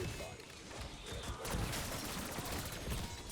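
Rapid gunfire cuts down zombies in Black Ops 6, a dense stream of shots and bursts fairly close, with a faint voice talking underneath.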